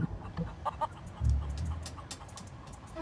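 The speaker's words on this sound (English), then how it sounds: "not a happy chicken" Chickens in the video game The Curse of Monkey Island, giving a few short, close clucks and squawks over a faint game background, with no speech.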